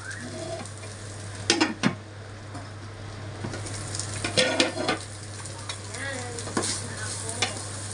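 Pork frying with fermented shrimp in a pan, with a steady sizzle, a spatula scraping and knocking against the metal in scattered strokes, and a low electrical hum underneath.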